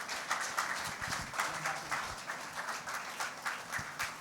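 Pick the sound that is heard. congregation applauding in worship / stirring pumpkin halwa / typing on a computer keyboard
congregation applauding in worship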